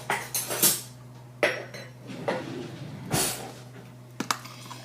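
Dishes and cutlery clink and clatter close by in a kitchen as a spoon is fetched, a handful of sharp knocks and rattles spread unevenly across a few seconds.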